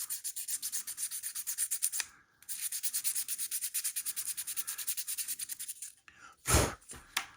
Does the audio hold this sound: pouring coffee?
no